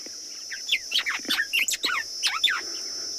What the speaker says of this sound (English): The beautiful sounds of a white-browed sparrow weaver that you can hear.